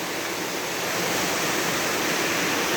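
Stream water in Lost Valley rushes along its channel as a loud, constant broadband roar, close by and unbroken, with no voices.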